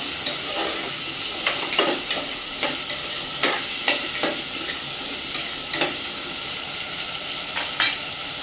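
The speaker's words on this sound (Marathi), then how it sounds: "चांगलं असं परतून घेऊया" Potatoes and other ingredients for a Malvani clam curry sauté in a hot pan, with a steady sizzle under regular scraping stirs roughly every half second, close and moderately loud, no voices.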